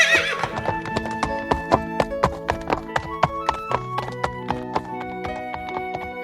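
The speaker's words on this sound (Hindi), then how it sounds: "घोड़े को छोड़ दो।" A horse neighs and then gallops over a rhythmic, steady hoof beat, the loud clip-clop recurring about every third of a second and staying close and prominent against a background of music.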